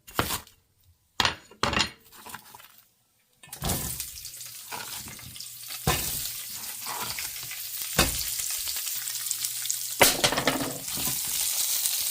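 Onion and curry leaves frying in oil with homemade masala while making spicy naatu kodi pulusu: after a few quiet knocks and stirs, a steady sizzle rises and holds, with occasional utensil scrapes, close by.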